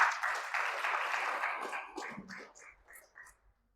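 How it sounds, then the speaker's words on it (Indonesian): Church congregation clapping for God during a sermon, a broad burst of applause that thins out after a couple of seconds into a few scattered, fading claps. "Kasih tepuk tangan bagi Tuhan dulu."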